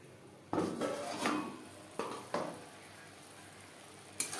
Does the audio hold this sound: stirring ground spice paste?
yes